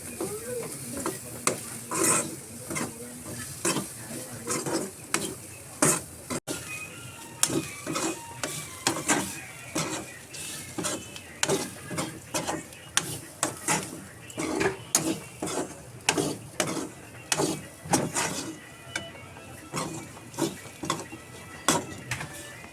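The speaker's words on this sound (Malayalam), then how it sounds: "ആ ഉള്ളിയും കൂടെ ഇട്ട് കൊടുക്കാം. എന്നിട്ട് ഇതും നല്ലോണം മൂക്കണം." Sliced onion, grated coconut and dried shrimp frying in a pan for a dried-shrimp chutney, a soft continuous sizzle broken by repeated scraping stirs in an irregular rhythm, close and fairly quiet.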